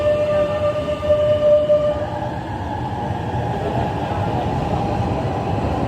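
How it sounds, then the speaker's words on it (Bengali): A metro train pulls into an underground station in Milan, a steady loud rumble of wheels and carriages with a brief high tonal whine early on, continuous throughout with no voices. "মেট্রো যে চলে আসছে মেট্রো।"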